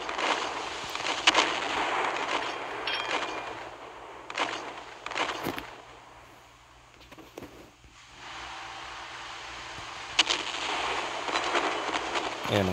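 Naval guns fire in the game Naval Creed, heard as several sharp cracking bursts over a low engine hum, with a quieter lull in the middle before more shots.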